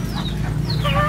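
Racing pigeons at feeding time make soft close-range coos and clucks, with quick overlapping calls over a low steady background hum.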